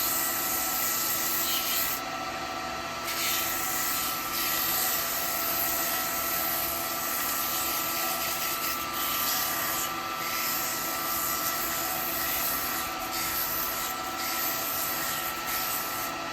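Steady, continuous abrasive hiss of sandpaper held against wet eucalyptus wood spinning on a lathe, a dense even rasp that carries on without pause throughout.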